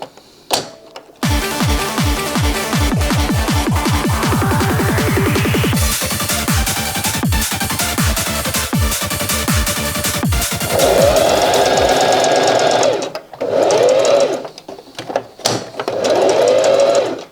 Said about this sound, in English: we're going to start sewing this little guy up